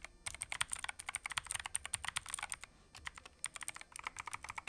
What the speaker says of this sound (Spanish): Así suena mi teclado anterior.